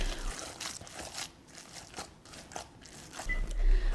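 Bob's Red Mill gluten-free crumbs are worked into raw meatloaf meat by hand, making soft, irregular squishing and crunchy crackling sounds that come in uneven bursts, close and fairly quiet.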